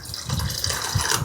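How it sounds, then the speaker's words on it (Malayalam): Hot water is poured into a bitter gourd sambar, a short, close splashing and gurgling pour that runs steadily, with no talking. "ഇനി കുറച്ച് വെള്ളം, ചൂടുവെള്ളം"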